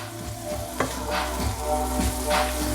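Shrimp being stirred into melted butter in a hot pan, giving a continuous close sizzle with a few spoon scrapes and knocks against the pan, and no talking.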